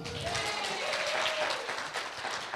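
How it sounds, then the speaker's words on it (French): A group claps for someone introduced as a general, a fairly quiet, steady patter of applause with a faint high voice or tone briefly sounding through. "Est-ce qu'on peut applaudir mon général?"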